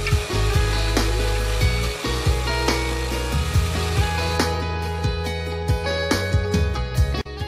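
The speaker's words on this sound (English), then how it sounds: "So here I'm using my trusty DeWalt drill. It's really powerful and makes drilling holes into masonry wall that much easier." DeWalt power drill boring into a masonry wall while a flat-pack barn door is being fitted, a loud steady whining drone with grinding texture that runs continuously and close to the microphone.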